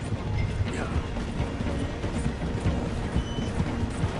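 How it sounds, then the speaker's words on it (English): A steam train slows through a station in Red Dead Redemption 2, a continuous rumbling clatter of wheels and cars with rhythmic knocks, heard up close alongside. "The train is slowing down to go through the station."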